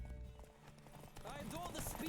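Horse hooves clip-clopping at a gallop in the video game The Witcher 3, a steady rhythmic beat with a whinny-like call near the end, under background game sounds.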